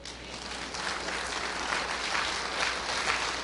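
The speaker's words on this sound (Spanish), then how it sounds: "Yo pensé que todos le iban a dar un aplauso al Señor." A church congregation applauds steadily during a sermon, a dense wash of many hands clapping at moderate distance for a few seconds.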